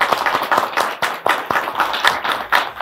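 Studio audience applause on a talk show, sparse and uneven clapping from a small group, with distinct sharp claps standing out in an irregular rhythm, close and fairly loud.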